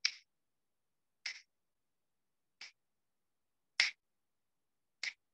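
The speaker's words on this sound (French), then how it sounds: "On va maintenant inspirer sur 5 claquements de doigts, relativement lentement déjà." Five crisp finger snaps land at a slow, even pace about 1.2 seconds apart, close and isolated against silence, setting the timing for breaths in a guided meditation.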